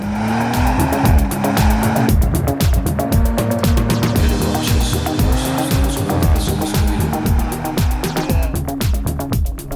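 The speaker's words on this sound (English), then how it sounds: "let's see how it holds its own against the mighty Audi RS4, driven by racing driver Adam Christo" Audi RS4 driven hard on a track by a racing driver, its engine roaring continuously with rhythmic gear-change pulses and drawn-out tire squeal throughout, loud and close.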